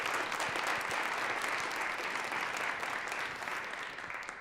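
An audience applauds the competitors at a college business pitch competition, a dense, steady clapping from a full room that holds strong before gradually thinning and fading toward the end.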